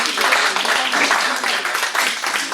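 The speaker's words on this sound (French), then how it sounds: "je crois qu'on peut l'applaudir" An audience at a 2017 conference debate applauds as a speaker arrives, producing dense, steady clapping that carries on at even loudness for the whole stretch.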